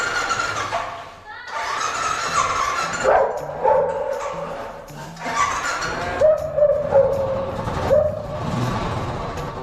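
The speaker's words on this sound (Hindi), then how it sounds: "क्यों भाई, क्यों भौंक रहे हो भैया, क्यों भौंक रहे हो?" A dog barks repeatedly nearby at Jaisalmer fort while a person talks over it, the barks mixing with the voice and some background engine noise.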